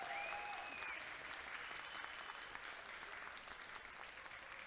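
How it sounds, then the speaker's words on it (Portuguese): Audience applause at a comics event at Circo Voador, a dense steady wash of clapping with some crowd noise and a whistle near the start, loud and sustained throughout. "senhoras e senhores, uma salva de palmas para Alice Pereira."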